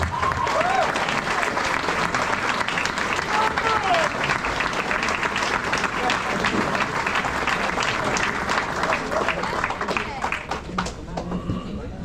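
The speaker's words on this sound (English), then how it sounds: "Please give a warm round of applause to the 2025 White Mountain Sportsmanship Award winner, JJ Goodboo." A banquet crowd at White Mountain Motorsports Park applauds the 2025 Sportsmanship Award winner with sustained, loud, many-handed clapping that tapers slightly near the end.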